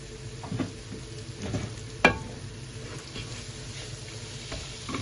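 Panch phoron and cumin sizzling in hot oil for a beef tripe dish, a soft steady crackle close by with occasional stirring scrapes and one sharp clatter partway through.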